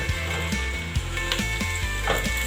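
Soft, steady sizzling of food frying in a covered pan, with a low hum and occasional faint clicks.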